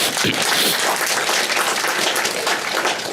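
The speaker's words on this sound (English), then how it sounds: "I want you to give them a round of applause for me, please." Dense audience applause fills the whole stretch at a steady, loud level, many hands clapping together in a hall after a call to honour industry workers at a Saint Lucia gathering; no speech over it.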